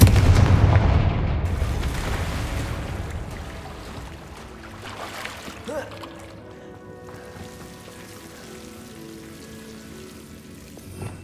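A Confringo fire spell in Hogwarts Legacy bursts with a loud, boomy explosion up front, then fades into a long crackling, hissing tail with faint tonal game sounds beneath.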